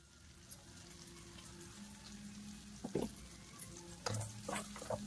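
Ginger garlic paste frying in a pan for prawns pachadi, a faint steady sizzle with a few soft stirring scrapes and taps near the end.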